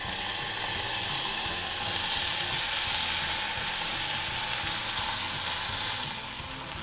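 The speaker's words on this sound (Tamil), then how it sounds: "இப்போ தக்காளியையும் வந்து ஒரு 2 நிமிஷம் நம்ம நல்லா வதக்கிடலாம்." Chopped tomatoes for a tamarind-free Tamil-style tomato chutney sauté in a hot pan, giving a steady, close, loud sizzle and frying hiss that runs unbroken throughout with no talk.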